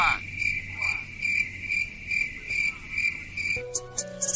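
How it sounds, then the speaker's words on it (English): Crickets chirp in a steady pulsing rhythm as a sound effect in a rap song, standing alone before a beat kicks in near the end. "Moment of silence, crickets."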